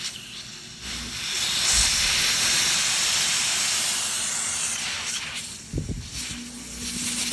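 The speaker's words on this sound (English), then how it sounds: "I'll just do a 1 or 2 taps so I get the nice dry vapor, as you can hear" Steady broadband hiss of dry steam venting from a high-pressure dry vapor cleaner onto an M240 bolt rod, fairly loud and continuous, with a couple of short clicks near the end.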